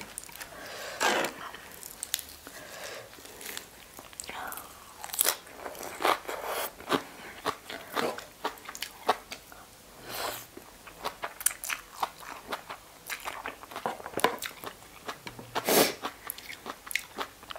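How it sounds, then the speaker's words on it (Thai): Someone bites and chews a crunchy dry Thai rice noodle salad with fish roe, close up, with repeated sharp crunches and crackles in an irregular rhythm and no talking. "กินตัวแรกเสียงดังก็ขออภัยด้วยนะคะ"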